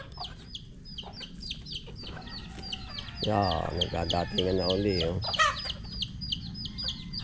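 Backyard chickens and ducks, part of a fast-growing flock, cluck and chatter in a steady scatter of short calls, with a louder burst of fowl calls in the middle and someone talking over them.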